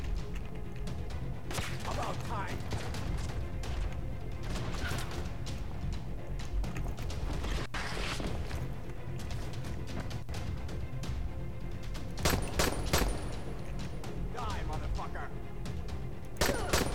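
Gunshots ring out in Dying Light, with several sharp, loud bursts scattered across the stretch among thumps, crashes and voices in a chaotic fight.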